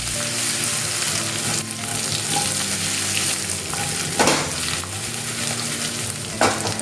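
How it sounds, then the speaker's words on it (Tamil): Raw banana stir fry frying in a kadai, a loud continuous sizzle close by, with occasional tossing and stirring bursts standing out against the steady hiss. "இந்த மாதிரி நம்ம கடாயை பிடிச்சி இப்படி டாஸ் பண்ணுறது சேஃபு."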